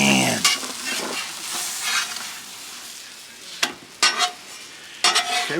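A tortilla sizzles and fries in a hot pan in a camper van kitchen, a steady close crackle with a few sharp clinks of utensils near the end.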